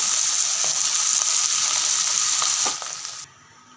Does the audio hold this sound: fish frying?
yes